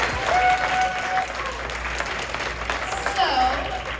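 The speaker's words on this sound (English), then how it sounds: "Round of applause for all the contestants." Audience applauding costume contest entrants at a horror fan convention, a steady, dense wash of clapping from a crowd that holds for the whole stretch, with a few faint voices mixed in.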